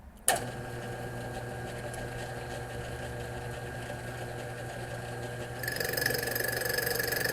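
A lathe starts abruptly and runs with a steady mechanical whir while turning a spacer for a car's cooling fan, growing louder and brighter near the end as the cut begins.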